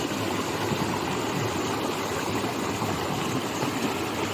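Steady broadband rush of water pouring at a jungle waterfall in Kalahandi, a constant loud roar filling the whole clip with no voices over it.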